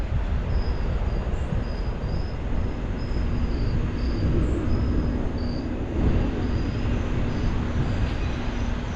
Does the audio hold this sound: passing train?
yes